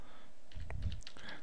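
A few light keystrokes on a computer keyboard as a web address is typed, soft clicks clustered in the middle and end of a short, quiet stretch with no voices.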